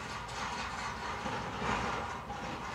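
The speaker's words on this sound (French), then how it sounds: "J'ai le télescopique et le tracteur qui passe derrière la maison." A telehandler and a tractor pass behind a house, heard as a faint, steady engine rumble with mechanical clatter that swells slightly midway, distant and muffled, with no talk.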